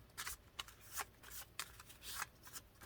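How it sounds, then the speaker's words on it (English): A deck of cards being shuffled by hand, several quick riffling bursts in a row, close and fairly soft, with no talking. "So you shuffle them. Let's shuffle them."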